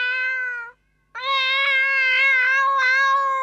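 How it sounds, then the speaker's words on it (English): Cats yowl in long, drawn-out, tonal wails, close and loud, with a brief silent gap between two cries. "Ow, ow, ow, sang the cats on the wall."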